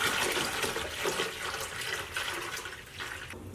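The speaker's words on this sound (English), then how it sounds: "I'm just gonna pour in my distilled water into the water reservoir" Distilled water pours steadily into a humidifier's water reservoir, a continuous close splashing and gurgling that stays loud throughout with no talking.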